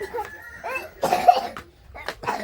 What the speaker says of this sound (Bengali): তোমার তো কাশি তো খুব ভালোই হয়েছে